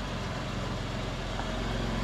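A Mercedes-AMG Black Series engine running at a steady low idle, a continuous rumbling drone close by and fairly loud, with no voices.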